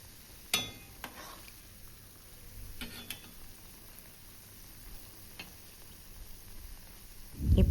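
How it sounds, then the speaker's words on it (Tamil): Kajada dough balls deep frying in oil, a faint steady sizzle with a few light ticks and taps of a utensil, ending in a louder close clatter. "இப்போது எல்லாத்தையும் இந்த மாதிரி நான் ஃப்ரை பண்ணி எடுத்துக்கிறேன்."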